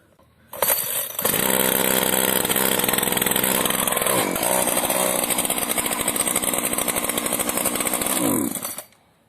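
A Husqvarna 235R petrol brush cutter fires up after a single pull and runs at high, loud, buzzing revs for several seconds, with small dips in pitch, before cutting off abruptly.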